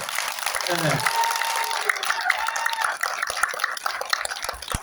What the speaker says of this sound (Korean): 우리 이번에 미들 승급하신 우리 최 사장님, 울보 사장님을 위해서 박수 한번 크게 한번 쳐주세요